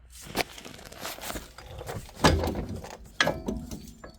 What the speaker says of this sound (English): now let's loosen that that bolt like I said on this bar